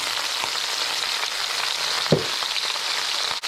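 Drained taro leaves (rourou) hitting browned lamb necks in a hot pot, a steady hiss of sizzling with a sudden louder sputter midway, continuous and close.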